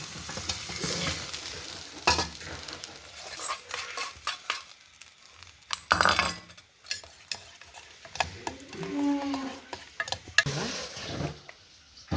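Mustard seeds and neem leaves crackle and sizzle in hot tempering oil for an Andhra-style raw mango pappu, with sharp pops and spatters, stirring clinks and a brief louder burst of frying near the middle.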